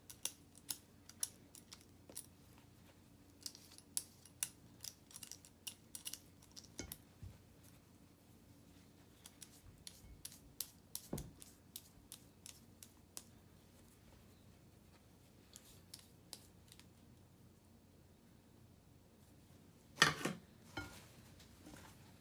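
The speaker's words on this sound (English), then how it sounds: "I'm using a peeler to make it easier." Cold butter shaved with a vegetable peeler for English scones, faint quick scraping strokes in an irregular series, a louder scrape near the end, in an otherwise quiet kitchen.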